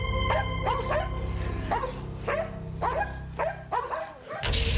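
An ordinary dog, one that fatally mauled its owner, barks in a steady series of sharp, loud yaps, about one every half second, close by and alone without any talk.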